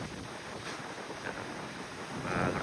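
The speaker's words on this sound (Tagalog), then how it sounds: "Yung dyan lakas yung alon." Strong ocean waves rush past a cruise ship sailing near Guantanamo Bay, Cuba, a continuous broad surging roar heavily mixed with wind buffeting the microphone.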